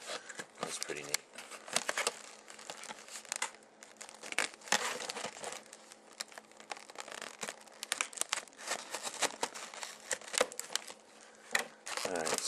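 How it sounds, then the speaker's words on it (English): A plastic clamshell package holding an EZ-NAS USB external drive being cut open, giving dense crinkling, crackling and tearing of stiff plastic that runs close and steady for the whole stretch. "so I've cut into that clamshell"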